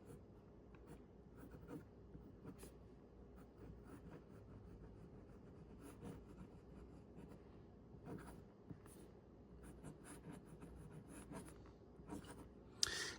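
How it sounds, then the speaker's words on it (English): A BENU Pixie pen with a Schmidt stainless steel broad nib writes on paper, a soft, continuous scratchy rustle of close nib strokes with small irregular bursts, steady and quiet throughout. "today we're writing with a stainless steel broad nib"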